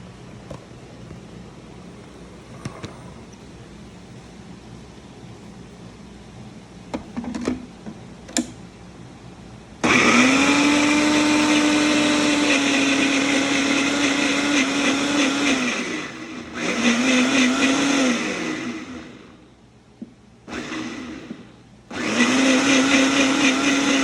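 A mixer grinder whirs loudly in several bursts grinding mint and coriander chutney, stopping and restarting, after a stretch of quiet with a few clicks.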